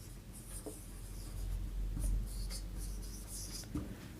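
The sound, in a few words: writing on a job application form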